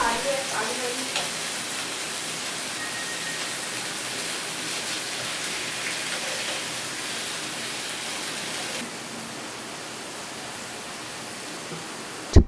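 Marinated chicken sizzles in a lightly oiled grill pan, a steady broadband frying hiss that holds evenly throughout, softening slightly near the end before a brief sharp knock.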